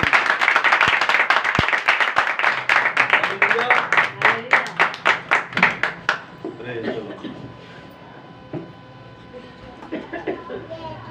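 A church congregation claps together in a fast, loud burst of rhythmic applause that gradually slows and thins out, then gives way to quieter room sound and scattered voices.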